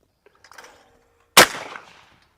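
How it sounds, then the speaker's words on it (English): A single loud, close shotgun blast from a Weatherby 18i 12-gauge semi-auto with a 28-inch barrel, fired at a flying clay outdoors, ringing off in a decaying tail after some faint rustling. "Let me shoot a clay out of the air."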